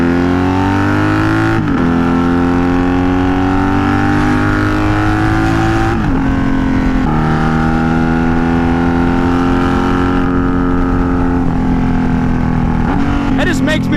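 A motorcycle engine drones loudly and steadily while riding, with its pitch rising through gear changes and brief dips between shifts, close and dominant throughout.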